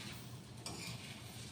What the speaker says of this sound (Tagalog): Prito tayo ng itlog.